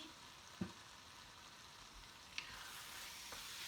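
Food sizzling quietly in a pan with corn kernels and parsley, stirred now and then, giving a steady soft frying hiss with a few faint scrapes and clicks of the utensil.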